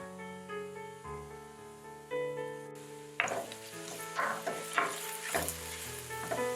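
Okra going into a pan of Trinidad-style vegan dhal, a moderate sizzle and fry with stirring scrapes rising partway through, over steady background music.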